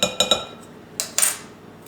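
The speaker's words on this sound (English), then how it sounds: "So I'm going to do a 1/4 teaspoon leveled off" A metal measuring teaspoon clinks sharply against a jar or bowl while ground ginger is levelled off, several quick bright taps close by, then a pause and a few more clinks, with no talk.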